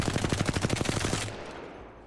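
Automatic weapon fire in the video game Apex Legends: a rapid burst of about a dozen evenly spaced loud shots lasting just over a second, then a fading echoing tail, no voices.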